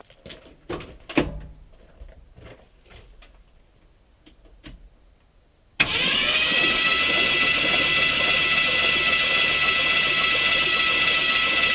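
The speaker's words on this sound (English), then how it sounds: "Another crank with no compression." A 1974 Ford F-250 engine is silent apart from scattered knocks and clicks, then the starter abruptly engages and cranks without compression, making a loud, continuous whirring drone that runs to the end.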